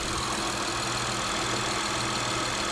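A Saturn Vue's engine idles steadily with a low, continuous hum and exhaust rumble, close by and fairly quiet, with no talking over it.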